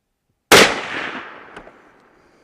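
A single loud, sharp rifle shot from a Ruger .308 fired at a target, with a sudden crack that rolls off into a decaying echo and no talking.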